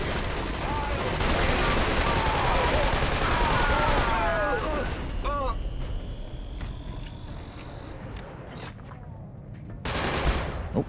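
Sustained automatic gunfire with tracer rounds in Killzone 2, a dense loud rattle of shots and whizzing passes heard under two players talking, thinning out toward the end.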